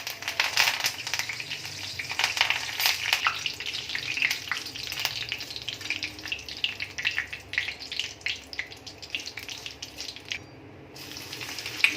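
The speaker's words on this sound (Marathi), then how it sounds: "कढीपत्ता आणि हिरवी मिरची तळून घेऊया।" Curry leaves and green chillies fry in hot oil for corn flakes chivda, a busy crackling sizzle with sharp pops and spits that swell and ease, ending in a brief quiet gap and a final crackle.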